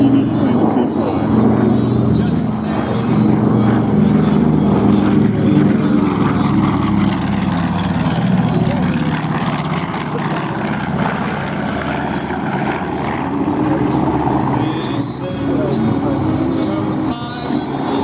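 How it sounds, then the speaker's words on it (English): A B-25 bomber roars past on a low pass at an airshow, a loud sustained droning engine rumble that swells and slowly fades, with crowd noise and talk underneath. "for her last pass, Georgia May, the B-25 out of Troy"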